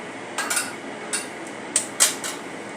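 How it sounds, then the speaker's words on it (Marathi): Dahi vada batter being whisked by hand in a bowl, giving a handful of light, uneven clinks and taps against the bowl, close and fairly quiet. "आता मी हाताच्या साह्याने फेटून घेते मिनिटभर"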